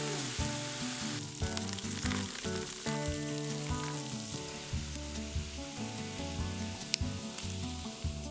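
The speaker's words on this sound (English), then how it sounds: "Place the bacon slices in a skillet and cook until crispy" Bacon slices frying in a skillet, a steady close crackle and sizzle with sharp pops throughout, heard alongside tonal background music and no talking.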